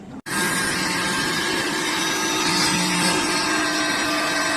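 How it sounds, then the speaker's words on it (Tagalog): A small portable blender motor whirs steadily and loudly after a brief click, whipping dalgona coffee, running without pause to the end. "try natin on yung ating blender, portable blender"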